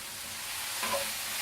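Sausages frying in a pan give a soft, steady sizzle with a faint stir or scrape near the end, heard close up with no talk.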